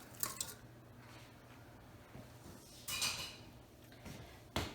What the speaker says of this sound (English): I'm quickly going to put the items into the pot.